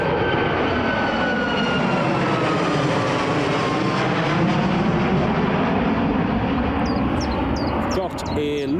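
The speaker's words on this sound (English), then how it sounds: "There's the Max up and away." A Boeing 737 Max jet roars steadily as it takes off from Newcastle International Airport, a loud sustained engine rumble that slowly shifts in pitch as it climbs away. Faint clicks and handling noise come near the end.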